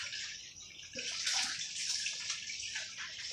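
Rinse water is poured out of a Scrubba wash bag holding clothes, a steady broad splashing rush that swells louder midway and runs continuously to the end, with no talking.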